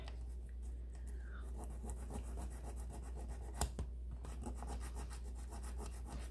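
Abrasive tool rubbing and rasping against a clay piece, a steady close scratching with repeated strokes and a brief sharp knock partway through, over a low background hum.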